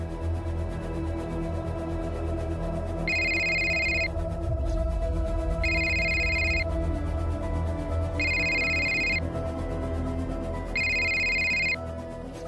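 A telephone rings at night in four evenly spaced electronic bursts over a low steady indoor hum, with no one speaking.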